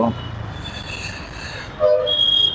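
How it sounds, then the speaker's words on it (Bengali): A metro train rumbles past on an overhead line above a busy city junction, with a steady roar, a faint high squeal and brief tonal notes toward the end, moderately distant. "উপর দিয়ে একটা মেট্রো গেল মনে হলো"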